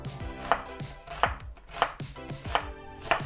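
Onions being thinly sliced with a knife on a board for a vegetarian frittata: five crisp, evenly spaced chops ring out close and clear, with no talking.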